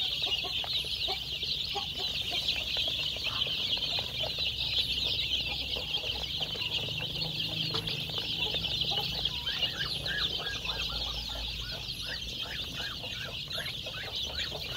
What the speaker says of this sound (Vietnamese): Đây là cái giống gà nồi đất, gà nồi vườn nha các bạn.